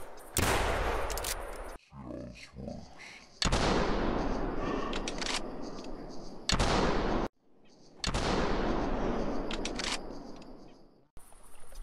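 Three loud, sharp blasts from a 10 gauge shotgun fired at ducks in theHunter, each followed by a long rolling echo that fades, with quieter gaps between shots.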